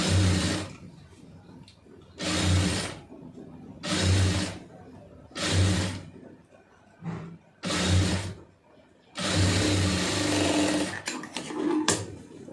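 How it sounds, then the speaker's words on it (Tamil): A sewing machine stitches a puff sleeve lining in repeated loud whirring bursts of about a second each, separated by short pauses, with one longer run near the end. "தையல் போட்டதுலேயே போட்டுருங்க"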